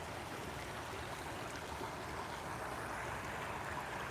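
A stream flowing over rocks: a steady, dense rush of water, close and continuous, with no voices.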